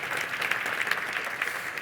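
An audience at a State of the City 2023 address applauds the city's first equity officer, a steady wash of many hands clapping at moderate volume throughout, with no voices standing out.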